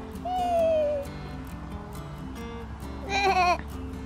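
Two wavering bleats, one early and one near the end, over low background noise, moderately close and fairly loud.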